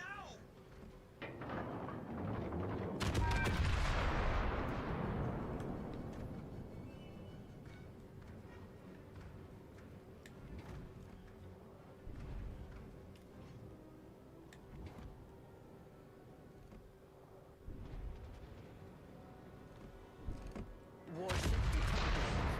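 Naval gunfire in World of Warships: Legends: a heavy boom followed by a long rumbling decay, then scattered sharper shots and a final cluster of blasts near the end, mixed with game effects.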